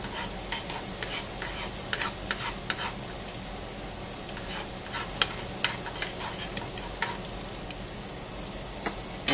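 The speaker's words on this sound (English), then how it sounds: "Keep this stirred up. Stir this around a little bit." Flaxseed stirred into a sizzling breakfast mixture in a pan, continuous frying crackle with scraping stirs and occasional clinks, close and steady without talking.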